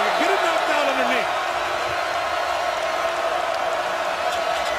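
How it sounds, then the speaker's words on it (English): Notre Dame fans in an arena crowd roar steadily to urge on the Irish defense during a Duke vs Notre Dame college basketball game, a continuous dense wash of crowd noise with a rising whistle-like tone near the start. "Crowd exhorting the Irish defense."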